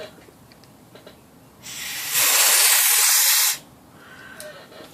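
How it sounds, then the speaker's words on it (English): Compressed air blasts across Underwood and Remington Noiseless typewriter type slugs during cleaning, a loud steady hiss lasting about two seconds before cutting off, with quiet workshop background either side. "I'm going to hit this with the compressed air."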